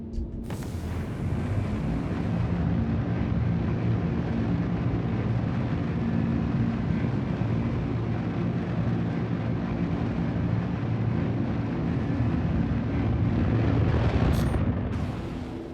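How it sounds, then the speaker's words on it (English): Drake Cutter Rambler, a small starter spaceship in a video game, accelerating under boost: a steady, loud, broadband engine roar with deep rumble that holds throughout, surging slightly near the end. "Let's see how quickly it accelerates with boost."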